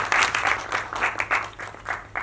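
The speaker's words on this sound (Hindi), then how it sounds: "जरा जोरदार ताली हो जाए प्लीज।" Applause from an audience at a film trailer launch event as co-producers are called onto the stage, a steady patter of hand claps in uneven bursts with a faint hum beneath.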